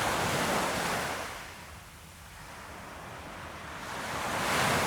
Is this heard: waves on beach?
yes